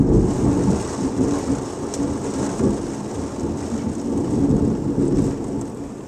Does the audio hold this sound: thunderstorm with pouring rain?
yes